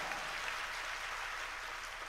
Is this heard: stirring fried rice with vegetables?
no